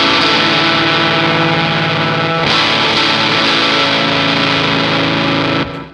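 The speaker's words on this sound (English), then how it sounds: "So let's get a fuzz sound and an underdrive sound that we like." Electric guitar driven through fuzz and underdrive pedals, a loud, thick, saturated sustained chord ringing for several seconds, briefly re-struck midway, then cut off abruptly.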